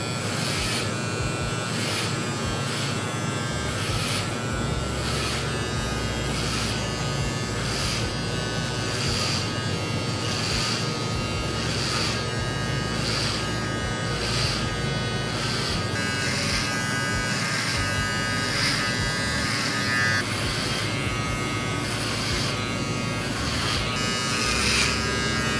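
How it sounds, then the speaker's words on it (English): An electric hair trimmer buzzes continuously while cutting hair to set the first guide line of a skin fade, a steady close whine with slight pulsing as it passes over the head. "Next with my trimmer, I'm gonna make my first guide."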